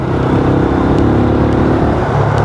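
Benelli Imperiale 400 motorcycle engine on a test ride, a loud steady drone with continuous rumble and road wind, held at an even pace throughout.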